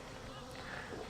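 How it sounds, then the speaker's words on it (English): Robber bees raiding a beehive make a faint, continuous insect buzz that hovers close and drones evenly through a very short moment. "These are robber bees."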